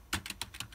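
Quick keystrokes on a computer keyboard connected to a Raspberry Pi 4, about five close, crisp taps in under a second, with no voices.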